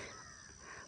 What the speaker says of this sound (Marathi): इकडे पक्ष्यांचा किलबिलाट मस्तपैकी आणि हे निसर्गरम्य वातावरण